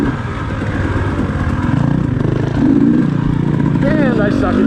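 Dirt bike engine revving on snow at Big Bear, a steady loud motor drone that climbs in pitch toward the end, with people talking over it.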